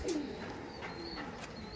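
A Giribaj pigeon at a pigeon market gives a brief, soft coo, faint and close, over a quiet background murmur.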